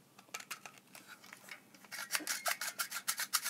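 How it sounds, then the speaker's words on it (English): BB pellets being pushed by speed loader into the magazine of a Bison 301 BB gun, a string of quick, faint clicking and rasping strokes that grow busier and more rhythmic toward the end, with no talking. "You have to manually insert it with the speed loader."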